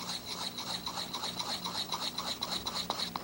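A stiff spatula stirring dental investment in a rubber bowl by hand: continuous gritty scraping and rubbing in quick repeated strokes, close and moderately quiet.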